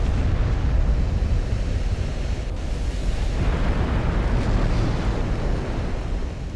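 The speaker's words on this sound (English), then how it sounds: "There's an ammo detonation on the Siegfried." A warship's ammunition magazine detonating in the naval battle game Ultimate Admiral: Dreadnoughts, a long, loud, roaring rumble of explosion that holds steady for several seconds without clear breaks.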